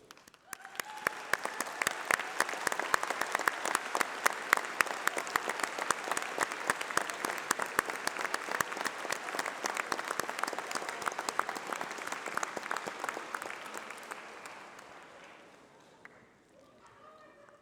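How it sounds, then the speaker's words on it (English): A large graduation ceremony audience at UCLan in Preston claps in a dense, sustained round of applause that holds steady for about fourteen seconds, then gradually thins and fades out. "please stand while we give you a round of applause"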